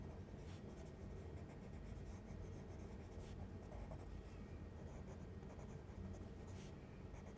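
Colored pencil shading on paper while defining a drawn face, a steady close scratchy rasp of strokes running continuously without pause.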